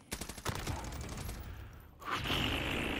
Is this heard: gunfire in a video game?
yes